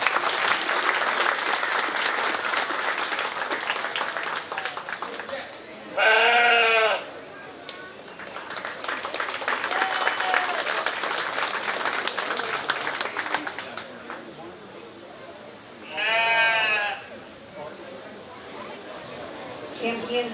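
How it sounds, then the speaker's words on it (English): At a 4-H sheep and goat show at a county fair, an audience claps in sustained, loud applause through most of the stretch. Sheep and goats bleat loudly twice in between. "Let's give all three of these kids a big round of applause."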